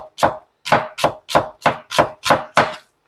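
A knife chops onion on a cutting board in eight sharp, evenly spaced strokes, close and loud, with no voices.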